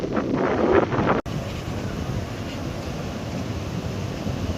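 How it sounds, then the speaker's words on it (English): Strong wind at Wasaga Beach's main beach on Lake Huron, a steady loud rushing buffet against the microphone with a brief dropout, no voices. "Windy and beautiful."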